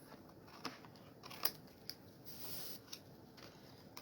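Scissors trimming off the edges of a paper craft piece, a few quiet snips and crisp cuts spaced out over a soft background hiss, close and faint.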